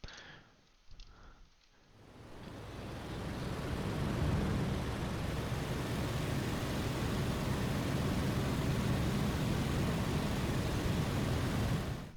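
Roaring aircraft engine of a Bf 109 G-14 fighter in the IL-2 Sturmovik flight game swells up after a short quieter opening and then drones on as a loud, steady broadband rush.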